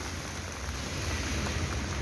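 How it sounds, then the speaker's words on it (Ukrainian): Heavy rain falls in a steady, dense hiss with a low rumbling undertone, constant and fairly faint throughout, with no voices. "Ще більший дощ, бачите?"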